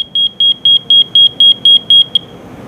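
A color-change digital alarm clock beeps loudly and close by in a steady train of about nine evenly spaced high-pitched pulses that stop abruptly.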